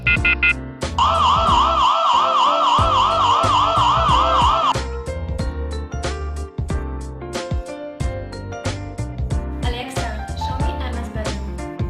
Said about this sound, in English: plays a loud siren to scare away unwelcome visitors